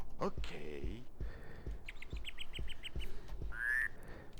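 Chirps and croaks from the 1994 DOS game Jagged Alliance, with repeated short clicks, a rapid series of high tweets and a rising whistled call over a soft jungle-like background.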